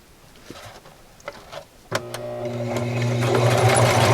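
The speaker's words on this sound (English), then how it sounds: "I'm going to go over to the sewing machine and just sew across here" After a few light clicks, a sewing machine starts up and runs steadily, its motor whirring and needle stitching across costume fabric at a rapid, even pace, close by.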